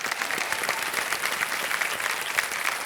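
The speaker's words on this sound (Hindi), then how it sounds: "तालियों के साथ एक बार फिर।" Sustained applause from a studio audience on a quiz show set, dense and steady throughout with bright clapping texture and no gaps.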